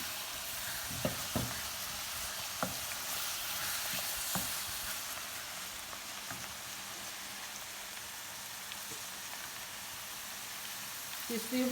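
Minced keema meat fries in oil in a pan, a steady close sizzle and crackle with a few sharper pops and spatters scattered through, running continuously without any talk.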